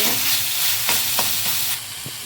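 Chopped tomato being stirred into frying crab masala in a pan, a steady sizzle with a few scraping spoon strokes, close and alone.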